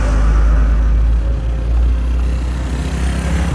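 Heavy trucks crowded with deported people roll along a road toward the border, a steady loud engine rumble with deep low drone and continuous road noise, close by, with no talk.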